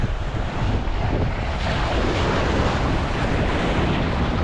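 Steady broadband roar of surf washing onto a shore, continuous and fairly loud with gusty wind noise over it, no voices.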